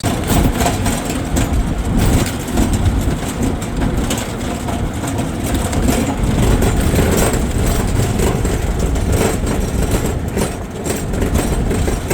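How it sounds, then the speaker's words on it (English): A trike tuk-tuk engine idles in Siargao with a loud, continuous rattling rumble, close by and steady throughout, with no talk. "here's my trike or tuk-tuk as they call them in Thailand"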